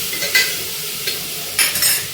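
Hot oil sizzles in a pan in short bursts as spices are stirred, with sharp crackles rising and fading.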